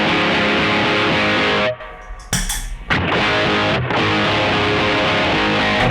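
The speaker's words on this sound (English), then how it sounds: "it's overloading the distortion pedal and giving the distortion pedal more distortion" Electric guitar driven into an overloaded distortion pedal, thick sustained crunchy chords with a mid-range push, briefly dropping out near the middle before ringing back in loud and alone.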